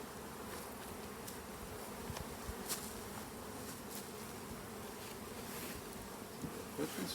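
Honey bees buzz steadily at an open hive on a sunny day, a dense, continuous drone with occasional louder individual bees passing close to the microphone.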